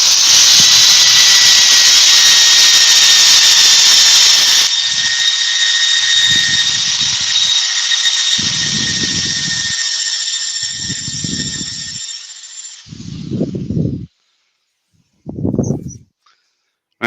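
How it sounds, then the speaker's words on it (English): Power sanding on a workpiece at 240 grit, a steady loud hissing whine lasting about 13 seconds before stopping, followed by several short separate bursts of hand sanding strokes. "There's just a little bit here that I want to get sanded out."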